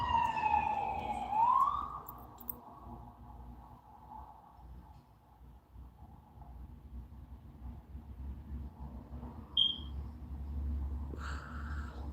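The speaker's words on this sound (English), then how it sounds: "Them goddamn police sirens, boy." A police siren wails briefly at the start, rising and falling, then fades into a low traffic rumble with a short chirp later on.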